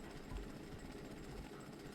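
Drilling enemies in the video game Jak & Daxter: The Precursor Legacy, heard in the spider cave as a steady, low, rattling mechanical whir that holds for the whole stretch at moderate-to-faint level with no talking.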